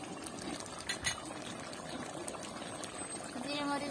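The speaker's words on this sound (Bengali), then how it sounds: "মাংসটা ফুটে উঠেছে" Chicken meat curry bubbles in a pot with a soft, continuous simmer of small pops and gurgles, a light clink and a quiet background voice in the mix.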